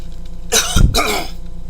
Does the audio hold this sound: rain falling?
no